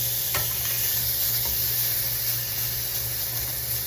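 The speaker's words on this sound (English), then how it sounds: "Our pan is smoking hot and in she goes. Filet, sear." Filet steak searing in a smoking hot pan, giving a steady, fairly quiet sizzle that holds throughout with a few faint ticks and pops along the way.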